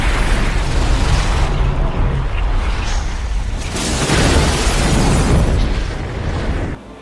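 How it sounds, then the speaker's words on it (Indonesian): A massive cinematic explosion from the film Knowing, the sun's blast destroying Earth: a loud, sustained roaring rumble with swelling bursts of debris-like noise that drops off abruptly near the end. "Tak lama ledakan matahari tersebut terjadi."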